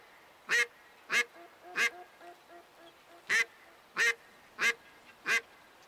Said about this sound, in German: So, haben wir nach einer Ente gecallt.